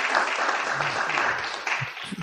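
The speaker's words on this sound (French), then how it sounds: "Ça applaudit à Toulouse également" Applause from an audience at a business awards final in Toulouse, a soft, steady patter of many hands clapping at moderate distance.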